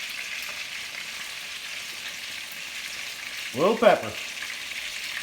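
Meatballs browning in a pan: a steady, even sizzle runs throughout, with someone speaking briefly over it near the end.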